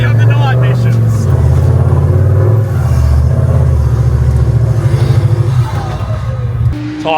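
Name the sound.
off-road vehicle engine driving a track in second gear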